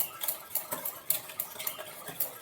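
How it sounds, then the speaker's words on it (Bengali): A spoon stirs a spice mixture into yogurt in a bowl, producing quick, irregular soft clinks and scrapes at close range, faint and without talk. "এটা আমি দইয়ের সাথে ভালোভাবে মিশিয়ে নেব।"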